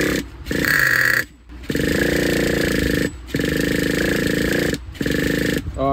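Traxxas 4tec nitro RC car engine being cranked by a starter, a loud sustained buzzing whine in several long bursts with brief pauses between attempts, close up.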